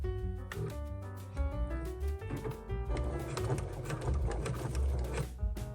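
A sewing machine top stitching a zippered make-up pouch, starting with slow distinct needle strokes that quicken into a dense rapid run, close and moderately loud.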